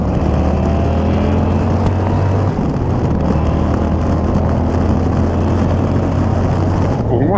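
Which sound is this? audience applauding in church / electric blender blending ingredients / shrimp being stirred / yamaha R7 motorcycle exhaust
yamaha R7 motorcycle exhaust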